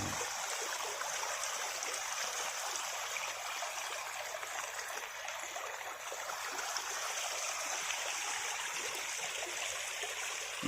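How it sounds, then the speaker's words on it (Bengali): Rainwater after an all-night downpour streams steadily into a pond from above, a constant soft hissing trickle with no voices. "যত টাইম হচ্ছে তত পানি বেশি বাড়ছে মানে ওপর থেকে পানি আসছে বেশি"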